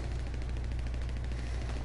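Rapid automatic gunfire in Grand Theft Auto V, a steady stream of quick repeated shots over a constant low rumble, moderately loud and unbroken for a couple of seconds with no talking.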